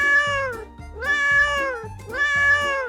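A cat in GTA 5 meows three times in succession, each call a loud, close, drawn-out meow with clear pitch rising and falling. No other sound competes.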